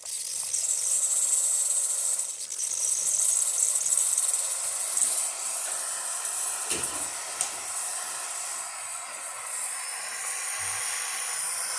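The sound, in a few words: espresso machine steam wand hissing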